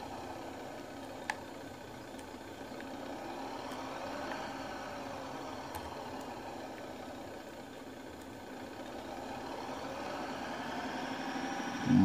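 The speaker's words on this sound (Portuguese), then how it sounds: "você ouve o barulho do caminhão" A truck engine heard from inside the cab in a truck driving game, a steady low idling hum with faint mechanical rattles and a slowly shifting pitch, quiet and unbroken.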